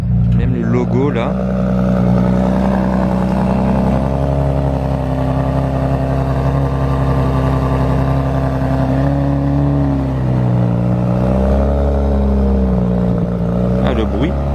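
Engine of a black Bentley with pink chrome details starting and revving, a loud steady idle with pitch swells, near and continuous, with people talking over it on a street in Monaco.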